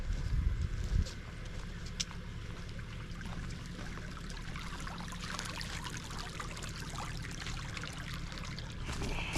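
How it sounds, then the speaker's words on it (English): A small creek on the Davies High Plains trickles and babbles steadily in a constant, fairly quiet wash of water, after a brief louder rustle at the start. "This little creek here."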